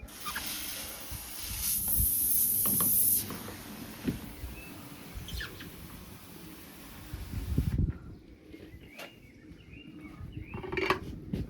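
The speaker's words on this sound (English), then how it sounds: "spray that all out" Water sprayed along the edges of a skylight window while external silver window film is being installed, heard as soft hissing spray bursts with occasional light knocks and scrapes at a moderate distance.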